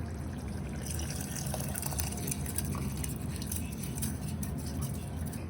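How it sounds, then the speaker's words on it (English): Steady water pouring and splashing into a pot of masala and rice for aloo matar pulao, a continuous wet rush with a low rumbling bed throughout, fairly close. "So now we have put water in our masala and rice too in it."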